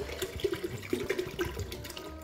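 Water, 1.5 litres of it, poured into a cooking pot for boiling 400 grams of chickpeas for a Lenten chickpea and spinach stew: a steady, close splashing gush that keeps going at an even level the whole time.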